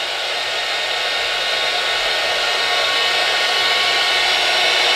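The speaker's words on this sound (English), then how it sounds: "you can take the heat gun very, very carefully" A heat gun blows hot air along the edge of an adhesive label in a steady, loud, continuous roar that holds without pause from start to finish.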